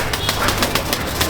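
Pigeons in a loft at Metiabruz, Kolkata, including young chicks, give a brief, soft stir of cooing and rustling wings against a faint background hum.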